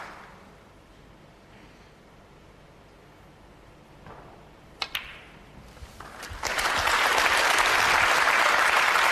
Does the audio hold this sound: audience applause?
yes